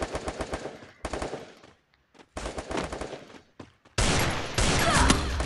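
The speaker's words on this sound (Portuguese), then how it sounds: "Esses caras ficam dando tiro nas costas do cara." Gunfire in the video game Free Fire comes as loud bursts of rapid automatic shots with short pauses between volleys, then a denser continuous barrage at the end.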